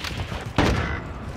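A single heavy AX-50 sniper rifle shot from Modern Warfare 2023 multiplayer, a sharp loud blast at mid-clip that rings out briefly over steady game background noise.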